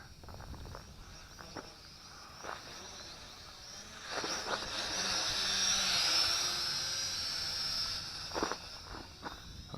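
MJX X400 quadcopter drone flying, its steady high-pitched motor whine swelling louder as it passes near and fading away again, with faint scuffs and ambient noise around it.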